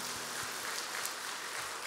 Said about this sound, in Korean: 우리 하나님 앞에 영광의 박수를 돌려드릴까요?